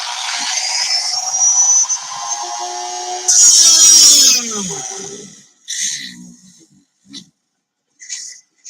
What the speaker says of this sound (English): This is how you ruin your Dremel tool.